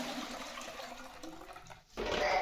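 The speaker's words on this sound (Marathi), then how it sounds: "हे गहू मी 2 पाण्यातनं स्वच्छ धुवून घेतले." Wheat grains are washed in water, giving a continuous sloshing, rushing swirl that dips into a brief lull near the end before surging back louder.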